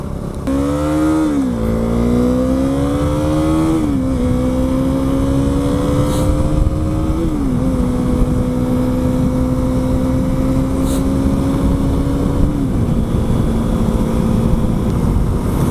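An adventure motorcycle cruising on a highway at about 100 km/h gives a loud, steady engine drone with wind rush, its pitch stepping down a few times over the ride.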